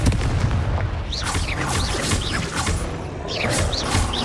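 Confringo spell blasts in the video game Hogwarts Legacy: a rapid series of loud, booming fiery bursts layered close together over dense combat noise, with no pause between impacts.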